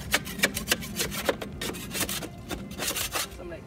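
A hand scraper rasps caked grass and dirt from the underside of a lawn mower deck during winterizing, with repeated short scraping strokes in an uneven rhythm, close and moderately loud.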